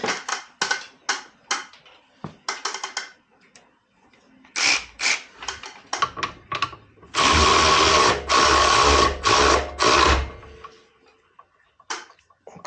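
A torque wrench is tightened on the rear shock bolts of a vehicle, with bursts of rapid ratcheting clicks in several runs separated by pauses, and one longer, louder stretch near the end.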